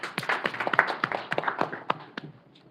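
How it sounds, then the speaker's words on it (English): A small group claps by hand at a live online session, sparse and uneven, with distinct individual claps that thin out and fade toward the end. "So a round of applause for everyone."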